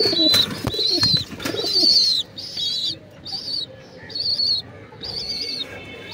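Pigeons in a home loft give repeated bird calls, several separate bursts spread evenly, close and moderately loud, with a brief knock early on and no talk.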